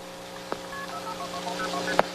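Faint whistled phone-phreaking tones dial a call, short pitched notes in a quick sequence over a low steady hum, with two soft clicks.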